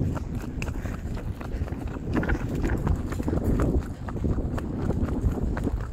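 A horse trots with steady, rapid clip-clopping hooves, close and continuous throughout, over a dense rumbling background with no talk.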